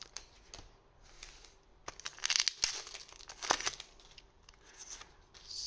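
A Z/X Eldersign Illusion "Silver Bullet" trading card booster pack being opened: soft crinkles and sharp tearing rustles of the foil wrapper up close, in bursts between quiet moments.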